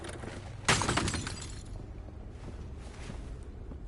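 An object knocked over and shattering in the Telltale Batman video game, a single sharp crash that rings out and decays over about a second, then fades back into quiet room tone.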